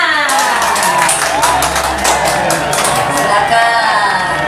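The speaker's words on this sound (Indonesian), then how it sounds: "Tepuk tangan." Crowd clapping and cheering at a school event, with scattered whoops and voices over steady applause, loud and close throughout.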